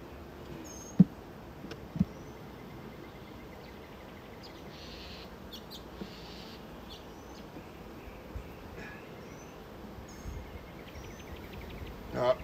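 Honey bees buzz softly around an open hive during a beekeeping inspection, a faint continuous drone with a few small knocks and handling sounds.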